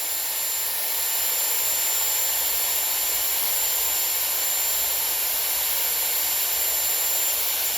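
Dyson Airwrap styler on its cold setting, a constant close airflow whoosh with a high whine, holding steady for several seconds with no talking.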